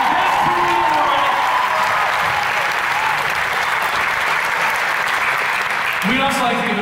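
At a live concert in North Bethesda, the audience keeps up a thick, loud wash of applause and cheers for the crew, with someone speaking over it early and again near the end.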